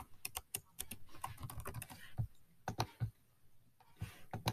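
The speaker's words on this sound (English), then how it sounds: "you can go ahead and type your name right into that box" Rapid, uneven keystrokes on a computer keyboard while a student fills in text boxes of a fillable PDF form, close and crisp, with short pauses between bursts and no voices.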